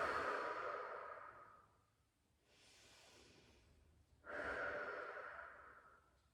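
Slow, deep breathing during a side-body stretching exercise: a long airy exhale fading away, a softer inhale, then another full breath out, close and alone with no talk.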